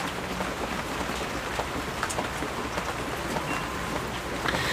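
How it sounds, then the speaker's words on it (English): Steady rain falls outdoors, a dense, even patter of drops hitting surfaces, close and continuous with no voices. "Just hanging out here in the rain"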